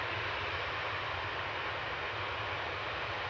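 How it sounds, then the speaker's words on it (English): Aer Lingus UK airliner on base leg approaching Manchester Airport from JFK, a steady broadband engine roar with low rumble, continuous and fairly distant with no voices. "Aer Lingus UK is on base leg,"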